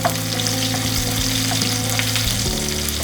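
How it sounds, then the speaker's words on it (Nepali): Chopped onion frying with cumin in hot oil, a dense, steady close sizzle that crackles evenly throughout with no voices. "प्याजलाई पनि यसमा फ्राई गरौँ।"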